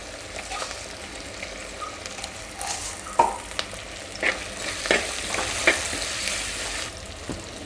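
Steady frying sizzle of fenugreek seeds in hot oil in a clay pot, crackling with scattered pops throughout, close up and without speech.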